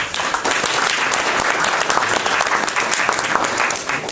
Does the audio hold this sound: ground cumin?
no